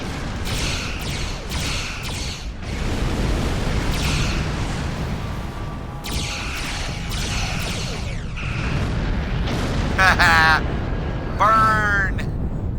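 Torpedoes launched and detonating in Star Trek Online space combat, a sustained rumbling barrage of blasts with whooshing bursts, ending in bright, chirping, sweeping energy effects.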